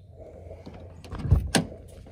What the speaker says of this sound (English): So we got power windows, power locks